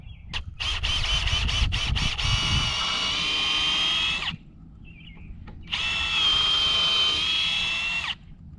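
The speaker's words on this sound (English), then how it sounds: "Okay, the pilot hole is drilled." A power drill bores a pilot hole with a 5/16 inch auger bit for a raised bed of Old Castle blocks, running in two loud sustained bursts with a short pause between, close to the mic.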